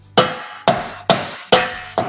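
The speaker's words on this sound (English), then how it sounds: "What we can do in order to help it go the rest of the way is get us a little hammer." A small hammer taps a Honda Pilot steering and suspension part into place: five sharp metallic strikes at an even rhythm about half a second apart, close and loud, each ringing briefly before the next.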